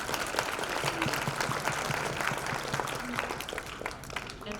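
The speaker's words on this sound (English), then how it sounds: "A round of applause," Conference audience applause at a rural family medicine gathering, a sustained crowd clapping that stays steady and full before easing slightly near the end, with no voices over it.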